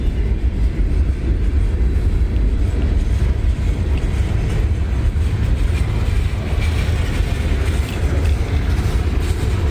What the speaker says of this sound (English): I barely beat this train here.